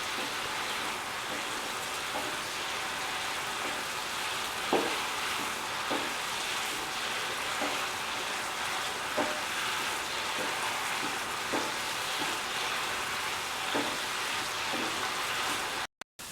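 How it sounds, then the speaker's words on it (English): Mushrooms fry in a pan with a steady, even sizzle while a utensil stirs them now and then, leaving scattered soft scrapes and taps throughout with no talking. "Mix and sort for 10 to 15 minutes until the mushrooms are well done."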